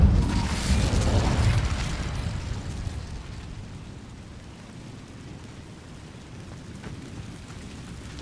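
An Incendio fire spell cast in Hogwarts Legacy, a loud burst of roaring, crackling flame at the start that fades over a few seconds into a low, steady rumble, with a small click at the very end.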